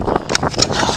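Wind in a tree-filled nature park gusts straight into the microphone, producing a loud, rough rumbling buffet that lasts the whole brief moment.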